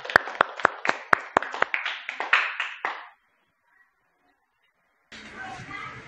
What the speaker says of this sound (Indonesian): Presentasi kita beri tepuk tangan untuk kelompok 3